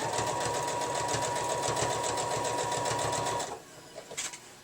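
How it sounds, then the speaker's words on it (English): A sewing machine stitching straight through layers of denim for a jean circle quilt, a loud, fast, even mechanical rattle running for over three seconds before stopping, followed by a few faint handling clicks. "you just sew straight on through"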